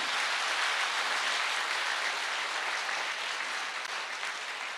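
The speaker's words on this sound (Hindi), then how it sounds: "एक जोरदार तालियां होनी चाहिए संस्था के लिए।" Audience applause at a health awareness program, a dense steady clapping from a large crowd that fills the whole stretch at even loudness with no voices on top.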